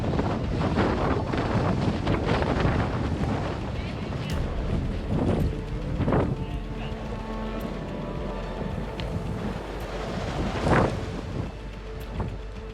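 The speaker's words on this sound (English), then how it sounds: "wind has picked up, and we're trying to throw this tent down" Strong winter wind buffets the microphone outdoors near a truck in the far north while people set up a tent, roaring steadily throughout with occasional louder gusts and bursts of speech.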